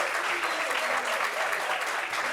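A live studio audience gives an ovation to a woman guest, Diane Bouli, known from TikTok, with dense, steady clapping sustained loud and close for the whole stretch.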